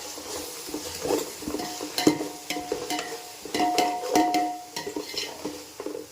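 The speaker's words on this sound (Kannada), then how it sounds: "ಇದನ್ನು ಚೆನ್ನಾಗಿ ಫ್ರೈ ಆಗೋವರೆಗೂ ಫ್ರೈ ಮಾಡಿ ಚೆನ್ನಾಗಿ." Masala paste for chicken biryani fries in oil while being stirred: irregular scraping and clinking strokes of a spoon against the pan over a steady sizzle, close and fairly loud, with no voices.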